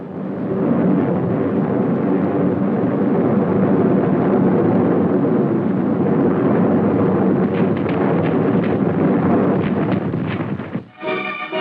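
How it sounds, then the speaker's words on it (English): Continuous loud rumbling roar of a B-29 Superfortress bombing raid on Tokyo, dense explosions and blasts blending into one sustained wall of noise, with a brief dip near the end before a burst of crackling. "300 of our superfortresses blasted Tokyo"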